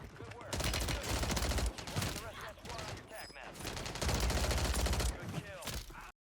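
Bursts of Striker 9 SMG fire in Warzone 3 crackle loud and close, several long rapid strings broken by brief pauses, with a voice talking over the shooting.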